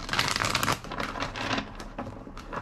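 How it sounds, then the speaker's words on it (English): Tarot cards being shuffled during a reading, a dense run of papery riffling and flicks, close and fairly quiet, in short bursts with a brief lull between them. "Two more shuffles."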